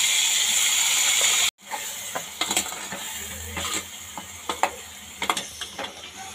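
Masala paste with green chilies and ginger-garlic paste fries in oil for Kolhapuri white rassa. A steady hiss cuts off, then scattered scraping and clicking stirring sounds follow at close range.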